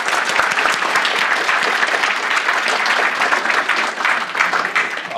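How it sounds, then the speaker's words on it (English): Audience applause at an admitted student day panel, a steady dense wash of many hands clapping that holds evenly throughout, fairly loud and close, with no talk over it. "give them all a round of applause"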